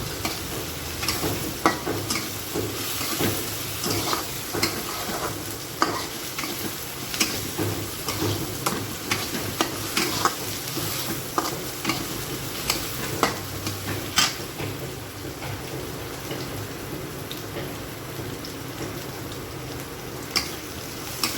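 Onion and tomato sautéing in a pan, a soft continuous sizzle broken by frequent clicks and scrapes of stirring, close and fairly quiet with no talking.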